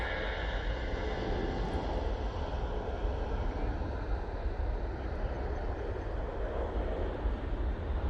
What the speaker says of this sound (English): Here's the Ryanair 737-800.